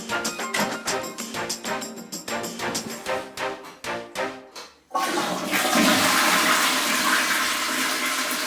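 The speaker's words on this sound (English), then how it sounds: "Toilet's flushing." A household toilet flushes in a home under DIY renovation, starting with a loud rush of water that then settles into a steady, full hiss as the bowl refills. Before it there is a run of rhythmic knocks and clatter.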